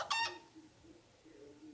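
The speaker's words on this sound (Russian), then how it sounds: "Курица" A tablet app plays a short chicken call, one bright clucking burst at the start that drops quickly into a faint, quiet background.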